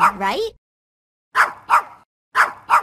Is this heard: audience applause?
no